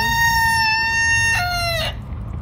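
A rooster crows loudly nearby in one long, drawn-out call over steady low background noise from a farmyard.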